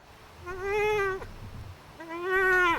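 Two drawn-out, nasal calls from a hand-blown call imitate a young moose calf, each rising then falling, separated by a short pause.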